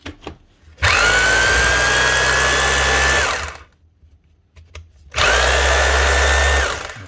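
A repaired Makita HR2630 SDS+ hammer drill runs in two bursts of about two and a half seconds each, a loud, steady motor whine with hammering underneath, separated by a short pause and spin-down.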